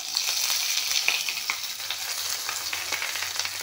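Onions frying in hot oil with five-spice in a home kitchen, a steady, close crackling sizzle with brief sputters and pops throughout, and no talking.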